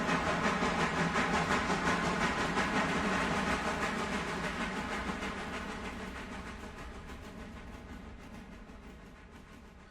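A steam locomotive in the railroad game Railroader chuffs along in a fast, regular rhythm with hissing steam, gradually fading as it slows.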